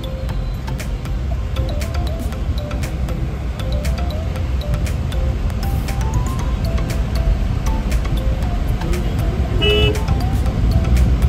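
Heavy road traffic on a tree-lined road near Neral outside Mumbai, a constant loud roar of engines with repeated short car horn toots scattered throughout, a dense continuous wash of vehicle noise.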